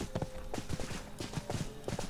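Horse hooves clip-clop at a steady trot in the game RIFT, a repeating pattern of moderately loud hoofbeats over faint background ambience, with no voices.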